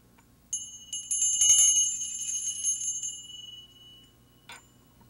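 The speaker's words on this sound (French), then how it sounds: "Je vais te montrer mes cloches. J'en ai une toute petite." Small hand bells ring in bright, clear chimes with a sustained shimmer that fades gradually, followed by a brief second jingle near the end. The sound is close, with no talk over it.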